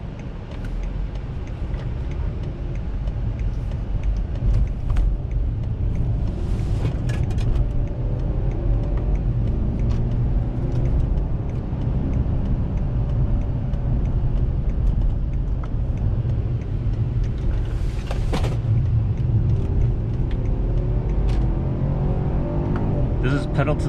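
Steady engine drone and road rumble from a 2017 BMW 530i at full throttle, heard from inside the cabin, loud and continuous throughout with brief higher bursts of wind and tire noise.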